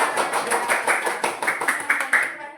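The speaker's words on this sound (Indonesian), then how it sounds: "tepuk tangan semuanya" Schoolchildren in an elementary classroom clap their hands together in quick, uneven bursts, a bright patter of many small palms that fades out at the end.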